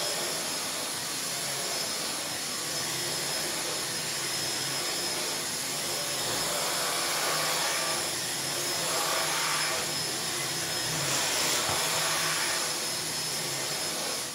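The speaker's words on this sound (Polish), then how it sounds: "To teraz zobaczcie, jak odkurzacz radzi sobie na dywanach." A TechniSat Technimax AS1 upright vacuum cleaner runs on carpet with a loud, continuous, high-pitched whine and a whooshing airflow that swells slightly as it passes over the pile.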